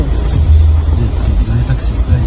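A taxi rumbles past at night, a loud low engine and road noise that holds close throughout, with people's voices talking over it.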